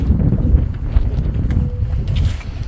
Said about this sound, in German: Hui, es ist windig.